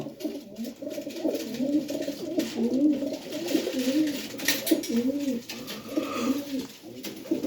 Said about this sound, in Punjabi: ਦੇਖੋ ਭਾਈ ਕਬੂਤਰ ਇੱਕ ਫੁੱਟ ਦਾ ਕਬੂਤਰ